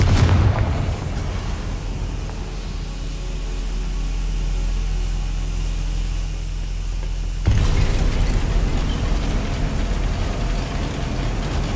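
Fiery blast spell going off in a wizarding game, a loud booming explosion with sustained rumbling roar that swells again into a second heavy burst partway through, with no talk.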